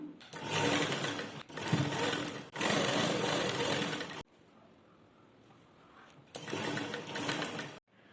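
A sewing machine stitching a lined blouse runs in three long, loud, steady whirring bursts with short pauses between them, then falls quiet before one more close run, with no talk over it.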